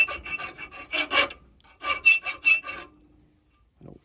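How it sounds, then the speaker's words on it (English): A half round file rasps across a small forged neck knife clamped in a vise, several distinct back-and-forth strokes in two bursts, close and loud, followed by silence and a faint knock. "I've just got it in the vise, my half round file, and I can kind of true that up"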